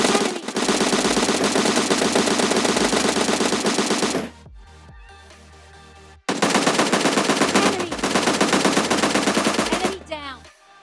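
Sustained automatic gunfire from a mobile battle royale game, two long loud bursts of rapid shots separated by a brief quieter lull, with no talk over them.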